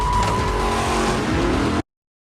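Audi R8 and Plymouth Cuda launching hard in a Furious 7 film scene: a loud, dense roar of engines and tire noise that sustains, then cuts off abruptly, with no voices.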